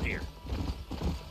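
Horses in the Western video game Red Dead Redemption: a short whinny, then a few uneven hoof clops close by at moderate volume, with low rumbling background underneath.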